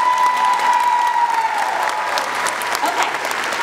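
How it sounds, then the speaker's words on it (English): A crowd applauds at a dance recital awards moment, with sustained close clapping that holds steady throughout, and a faint ringing tone fading beneath it at the start. "Yes, they deserve a round of applause."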